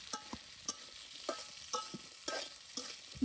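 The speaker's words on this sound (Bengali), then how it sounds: "এখন বুট ভাজা হচ্ছে" Chickpeas frying in a pan, with sharp scraping strokes of a spatula stirring them at a steady rhythm over a faint, soft sizzle, close and fairly quiet with no talking.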